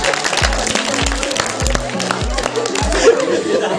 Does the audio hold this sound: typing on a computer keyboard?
no